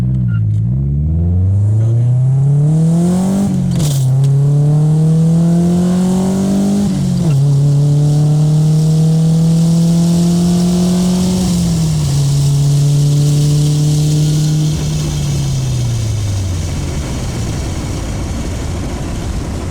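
A car exhaust with a fiberglass-insulated muffler revs up and settles repeatedly, with a deep, muffled drone and rising pitch sweeps that fall back between throttle blips.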